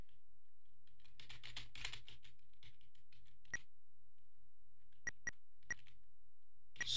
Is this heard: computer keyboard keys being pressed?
yes